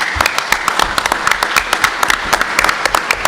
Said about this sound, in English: Can you applaud Joe?